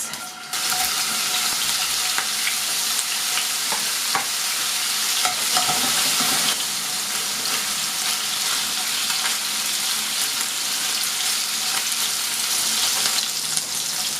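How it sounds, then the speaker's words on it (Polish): White sausage frying in a hot pan gives a steady, loud sizzle that fills the whole stretch, with a few scraping stirs and clicks near the start and no talk. "Po kilku chwilach nasza kiełbaska jest podsmażona z każdej strony."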